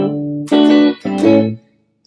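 Electric guitar played through GarageBand's Brit and Clean amp preset, three bright sustained chords struck in succession, close and clean, ringing out before fading to silence.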